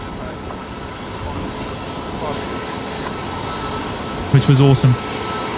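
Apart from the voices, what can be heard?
Qantas long-haul aircraft taxiing out for a flight to LAX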